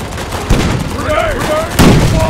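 Tank cannon and machine-gun fire from a Jumbo Sherman battle in Road To Valor: World War II, with a heavy boom at the start and another near the end over continuous crackling gunfire, while voices shout orders in the mix.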